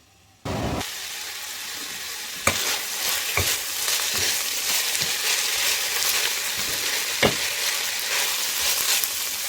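Karnıyarık filling sizzles and fries steadily in a covered pan, a dense continuous hiss starting abruptly after a brief silence, with a few sharper crackles and pops; no one speaks.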